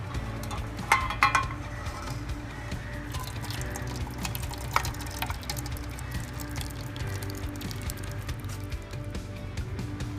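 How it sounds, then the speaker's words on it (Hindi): Excess water from cooked lentils pours through a kitchen strainer as a steady splashing trickle, with a few faint clinks of utensils, close by and without talk. "तो एक स्ट्रेनर में हम इसे छान लेते हैं।"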